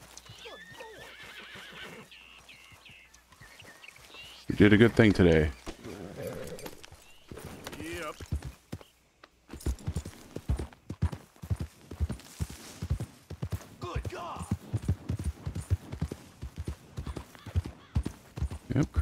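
Horse neighing and clip-clopping hooves in the video game Red Dead Redemption II, with a loud whinny near the start followed by a steady rhythmic hoof gait; a voice speaks briefly over it.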